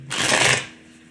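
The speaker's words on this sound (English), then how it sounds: "let's pull some cards from Mystic Dreamer and see where you're at" A deck of tarot cards riffles in one quick, loud, close shuffle lasting about half a second, then near silence.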